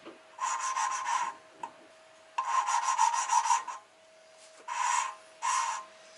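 Gritty rhythmic rubbing as a Nissan RB25DET engine valve is hand-lapped with compound, coming in several bursts of quick back-and-forth strokes separated by short pauses.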